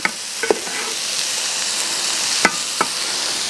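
A spoon stirs basmati rice and melted ghee in a pot, making a few sharp scrapes and taps against the metal over a steady soft hiss of cooking.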